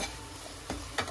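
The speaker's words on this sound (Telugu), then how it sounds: "ఇవన్నీ కూడా తాలింపులో ఫ్రై చేసుకోండి" Green chilli paste with turmeric and salt fries in a hot oil tempering, a soft steady sizzle with two brief stirring scrapes near the end.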